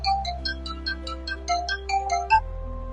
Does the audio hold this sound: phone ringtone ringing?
yes